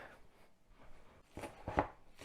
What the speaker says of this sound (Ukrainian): Для цього мені потрібно порізати цибулю